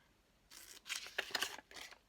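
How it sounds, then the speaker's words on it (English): Scissors cut a paper envelope along its fold in a few quick, close snips and crinkles over about two seconds, quiet and alone. "I can go ahead and cut that out along the folds"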